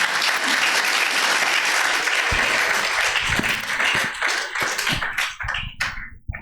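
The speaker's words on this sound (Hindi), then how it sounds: "खूबसूरत कलाम के लिए जोरदार तालियां बजाएंगे।" A church congregation at a Sunday service bursts into loud, sustained applause that thins into scattered claps and taps before fading out.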